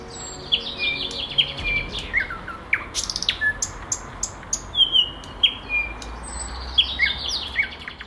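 Several birds chirp and tweet in short, scattered bursts across a steady outdoor background hum in a park in Arpaçay, Kars, some calls closer and brighter than others.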